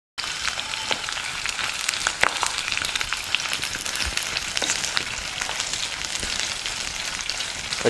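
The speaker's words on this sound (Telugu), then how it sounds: "పచ్చిమిర్చిని కూడా బాగా వేగనిద్దాం." Green chillies fry in hot oil in a pan alongside garlic cloves, giving a steady, close, crackling sizzle with scattered pops throughout.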